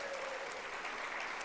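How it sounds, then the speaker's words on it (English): Brief, steady applause rises from an audience at a charity gala ball, moderately faint and continuous, with a faint tone beneath at the start. "Round of applause for him."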